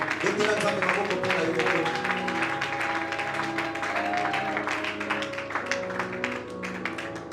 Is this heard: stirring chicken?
no